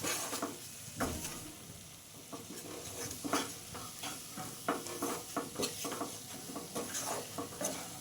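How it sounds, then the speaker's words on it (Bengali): Spice paste with a little added water frying in a pan while a spatula scrapes and stirs it, repeated clacks and scrapes over a soft sizzle, close and alone without talk. "একটুখানি জল দিলাম যাতে মশলাটা পুড়ে না যায় খুব ভালো করে কষিয়ে নেব মশলা"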